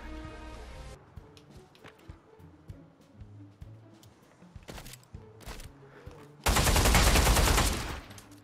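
Gunfire rings out in the VR shooter Pavlov: scattered sharp shots and clicks at first, then a loud, sustained burst of rapid fire near the end.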